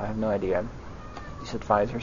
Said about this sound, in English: If you hear a cat, that's my cat being held.